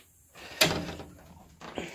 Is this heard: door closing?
yes